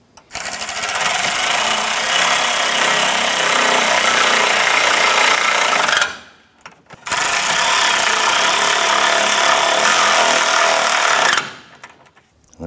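A power tool snugs down the radiator mounting bolts on a 2004-2008 Acura TL in two loud, continuous bursts of rapid rattling impact, each about five seconds long, with a short pause between them.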